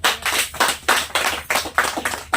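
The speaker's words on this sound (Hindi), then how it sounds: "इस नेटवर्क के लिए एक बार ताली होनी चाहिए।" An audience at a business seminar claps loudly in a fast, even rhythm of repeated bursts, with no talk on top.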